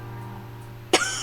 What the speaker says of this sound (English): Becca starts coughing heavily and her hand hastily goes to her mouth to stifle the sounds